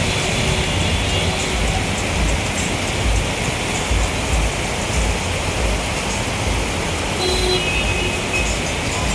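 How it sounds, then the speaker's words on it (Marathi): Rain falls in a steady, loud, broadband hiss that stays constant throughout, with faint background rumble like distant traffic and no talking. "पाऊस आला."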